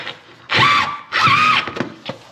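A power drill driving screws with a Torx 15 bit whirs in two loud bursts of about half a second each, followed by short clicks and a brief final spin while building a closet organizer.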